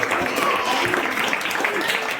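An audience at a school Children's Day celebration claps loudly and continuously, a dense wash of applause with voices mixed in.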